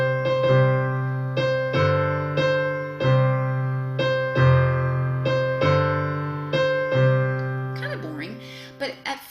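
On a keyboard, a simple melody in C plays over a sustained open-fifth chord in the low register, with notes struck in a steady sequence; a brief rustle and a faint voice follow at the end.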